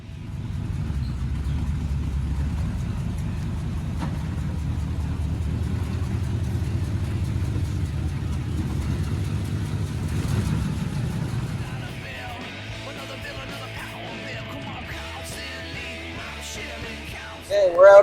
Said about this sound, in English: we're out on the highway now, and we're just hitting 45, coming up on 50 miles an hour